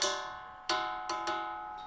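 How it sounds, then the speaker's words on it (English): Ringing Rocks of Montana are struck and give clear metallic, bell-like rings. Four strikes come in all, each one a sharp attack with a long, slowly fading shimmer, close and alone with no voices. "called the Ringing Rocks of Montana, and they're strange because they really shouldn't sound like this."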